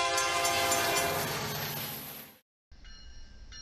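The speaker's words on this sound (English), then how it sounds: "we caught a BNSF untreated tie train" A BNSF freight train hauling untreated railroad ties rolls past in St. Louis, Missouri, loud and close with rumbling wheels and steady rail noise, cutting out briefly before a horn-like tonal sound returns.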